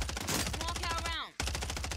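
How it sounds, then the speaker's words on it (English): Rapid machine-gun fire in Call of Duty Warzone 3 rattles continuously around the player, loud and close, briefly cutting out before resuming, with a voice mixed in under the shots. "I'm getting shot in the back."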